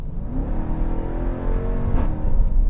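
A 2018 Jeep Trackhawk with a supercharged V8 accelerates hard from a cruise in seventh gear, its loud engine note climbing steadily in pitch with a whirring edge, close and continuous with no talking.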